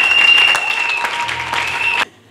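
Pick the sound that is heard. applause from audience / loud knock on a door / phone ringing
applause from audience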